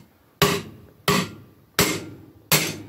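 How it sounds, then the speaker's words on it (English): Four sharp hammer blows, evenly spaced and loud, seating an axle carrier on a Honda TRX250R quad rebuild, each hit ringing briefly before fading, with no talk over them. "listen to the way it sounds as I'm hitting this. When it bottoms out, which is what you want, you'll hear the pitch of the hit change."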